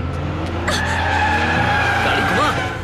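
A car skidding as it turns sharply, loud tire squeal rising over a running engine for about two seconds, close and prominent, with engine rumble underneath.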